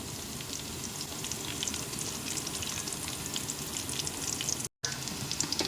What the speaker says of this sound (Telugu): ఇందులోనే కొన్ని ఆవాలు జీలకర్ర కూడా వేసుకొని ఫ్రై చేసుకోవాలి కొద్దిగా